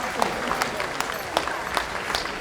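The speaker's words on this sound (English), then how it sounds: "a big round of applause to all of our champions" Audience applause for champions at a Breakfast of Champions event, scattered sharp hand claps over a steady patter of clapping at moderate distance, with some voices mixed in.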